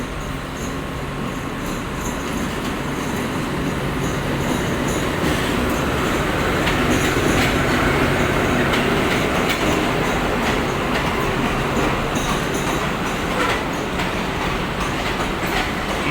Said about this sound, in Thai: ถึงสถานีกรุงเทพในชานชลาทางที่ 6 โดยใช้เส้นทางอ้อมมาจากฝั่งหอสัญญาณกรุงเทพ